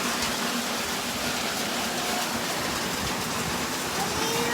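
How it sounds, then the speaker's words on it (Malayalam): Heavy rain pours steadily and evenly, a thick constant hiss with no pauses and no talking. "ഞങ്ങൾ എഴുന്നേറ്റൊക്കെ വന്നപ്പോഴേക്കും മഴ തുടങ്ങി. നല്ല മഴ."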